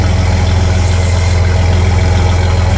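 A car engine idles at close range with moisture dripping from its exhaust onto a garage floor, a loud, steady low rumble with an even pulsing throb and no speech.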